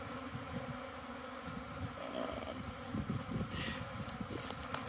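Honey bees buzz steadily around nucs and hives in an outdoor apiary, a continuous close hum that swells slightly in the middle and holds throughout with no talk.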